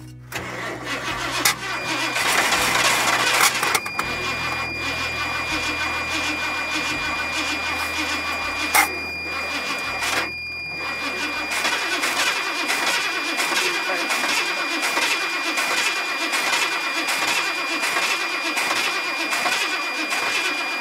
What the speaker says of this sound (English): Try not to rev up so much, just kind of keep it lower idle.